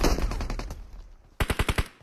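Automatic gunfire in a mobile battle video game, two quick bursts of sharp rapid shots, the first fading out and the second a tight string of five or six loud cracks, with no talking.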